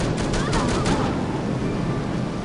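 Gunfire in the shooter No One Lives Forever rattles out as a quick burst of several sharp shots early on, then trails into a steady loud wash of game noise and ambience.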